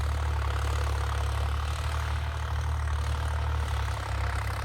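A New Holland 3630 Special Edition tractor with an unmodified stock engine idles steadily throughout, a loud, close, continuous low diesel rumble with an even, unbroken drone.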